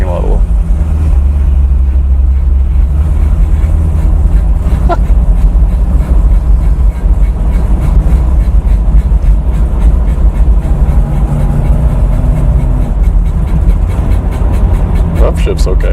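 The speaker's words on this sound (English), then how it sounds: "Just gonna drive around the parking lot a little." A Mercedes 450SL rolling around a parking lot after a fuel system install, its engine a loud, steady low rumble heard up close from inside the car, with occasional clunks over the top.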